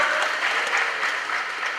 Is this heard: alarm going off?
no